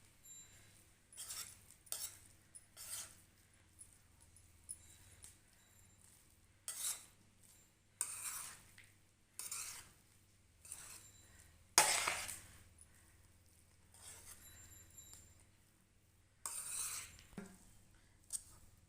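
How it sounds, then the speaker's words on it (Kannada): A metal ladle or spatula scrapes and clinks against a pan while fried rice is stirred and mixed, in short irregular bursts of clattering with quiet gaps between, close and fairly soft, without talk. "ಇವಾಗ ಮಿಕ್ಸ್ ಮಾಡಿ ಚೆನ್ನಾಗಿ ಮಿಕ್ಸ್ ಮಾಡ್ಕೊಳ್ಳೋಣ"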